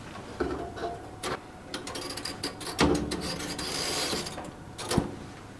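A MINI LINK unit being locked in place with two catchers at either side, heard as faint close-up plastic clicks, rubbing and mechanical snaps scattered over a few seconds.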